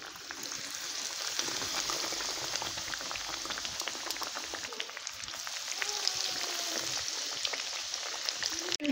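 Chicken pieces frying in hot oil, a loud continuous bubbling sizzle with fine crackling pops close by, steady throughout and ending with a brief knock.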